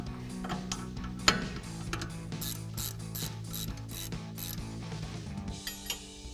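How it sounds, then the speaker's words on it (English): A hand ratchet with a 13mm socket loosening a brake caliper bolt on a 2014-2018 Chevrolet Silverado, with rapid repeated clicking of the pawl, close and distinct, continuing steadily for several seconds. "So we use our 13mm socket on that side. Now we'll get the one on the top."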